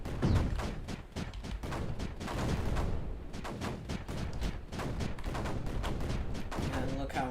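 Mortars in the game Space Crew pound away in a dense, continuous barrage of booming blasts and crackling impacts, loud and sustained throughout with no pauses.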